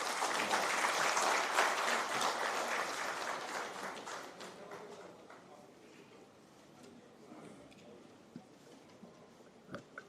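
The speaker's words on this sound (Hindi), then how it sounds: "आइए तालियों के साथ हम इनका भी दोबारा से स्वागत करें" An audience at a felicitation ceremony claps loudly in welcome, the applause fading over several seconds and leaving a quiet room with a few scattered late claps and taps.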